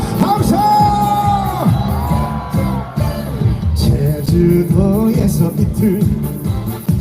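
Concert crowd at an apple festival in Cheongsong cheers, whoops and claps for a singer, loud and close, with amplified vocals and music sustained throughout.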